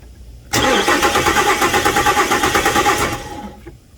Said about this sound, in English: Doing this will result in the engine turning over